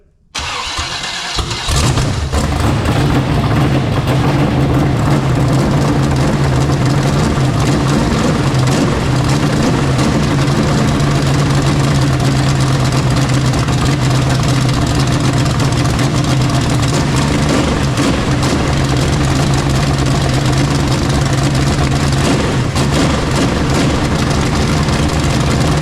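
A freshly rebuilt Chevy 350 small block cranks and fires, then settles into a loud, steady, running-rich idle that holds close and constant for the rest of the time.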